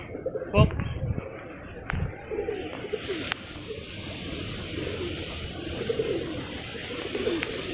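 Pigeons coo in low, repeated murmurs close by during a storm, with steady rain hiss behind them and a few sharp knocks and thumps, while a person talks over parts of it.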